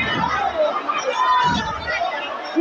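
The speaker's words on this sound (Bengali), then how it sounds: "প্রচুর ভিড়, প্রচুর জনের সমুদ্রে পরিণত হয়েছে এই ঠাকুরনগর।" Dense crowd hubbub at the Thakurnagar Matua fair near a railway platform, a busy babble of many overlapping voices with nearby people talking over it.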